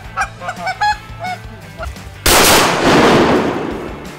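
Canada geese honking at a pond during a waterfowl hunt, several loud honks close by, then a sudden blast of a shotgun gunshot whose roar fills the rest of the clip.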